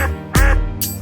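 A cartoon duck quacks twice in an animated Hindi children's song about five little ducks, with a loud nasal quack near the middle and a second quack at the end over musical accompaniment.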